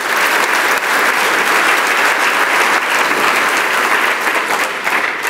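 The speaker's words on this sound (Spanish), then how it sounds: "denle un aplauso fuerte a su Dios todopoderoso" Loud applause from a church congregation during a sermon, a dense, unbroken wall of clapping hands from many worshippers, full and close throughout with steady intensity and no speech on top.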